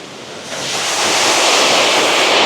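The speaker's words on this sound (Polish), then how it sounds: "Ale wodospad." A waterfall at a palace garden roars with loud, dense rushing water, swelling up within the first second and then holding a strong, continuous hiss close to the microphone, with no talking.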